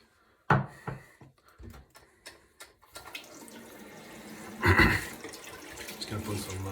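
Hot water runs from a bathroom tap for shaving, starting after a few knocks and clatters, with a steady splashing stream that swells midway and continues close by.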